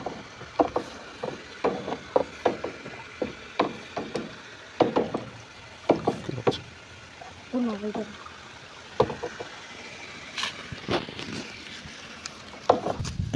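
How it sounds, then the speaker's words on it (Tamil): Fermenting cow-dung and algae solution being stirred outdoors, a series of irregular knocking and sloshing strokes with occasional splashes, close and moderately loud, with bits of talk. "கலக்கி விடுதுங்க."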